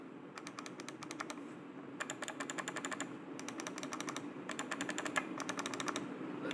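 Button clicks of a Havit MS300 RGB gaming mouse, sharp crisp clicks in rapid bursts separated by short pauses, close and fairly quiet over a low steady room hum.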